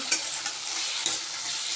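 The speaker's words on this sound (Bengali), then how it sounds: "এবার আলুটা আমি ভালো করে লাল করে ভেজে নেবো" Potatoes sizzling steadily in a hot pan, a bright continuous crackle close up, with a couple of light stirring knocks and no talking.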